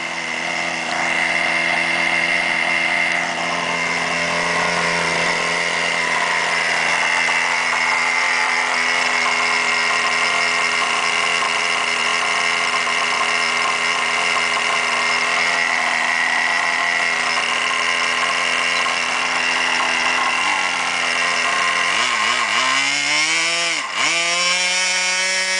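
A Veco 19 model glow engine runs continuously at a high, buzzing pitch, loud and close, holding steady before several quick throttle dips near the end.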